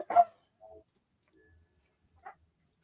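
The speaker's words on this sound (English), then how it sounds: "Let me hush this dog up real quick." A dog barks once, close and fairly loud, then gives a couple of softer, shorter barks or yips spaced out across otherwise quiet, near-silent seconds.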